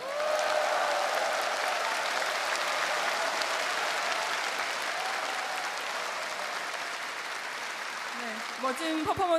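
Sustained audience applause at a Korean Liberation Day ceremony after a fusion performance: a dense, loud, continuous wash of clapping from a large crowd that holds steady for about nine seconds.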